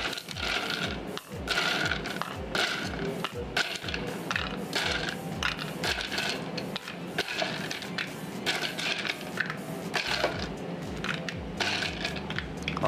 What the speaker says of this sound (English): After that, I add my ice cubes for shaking. I fill the shaker with ice.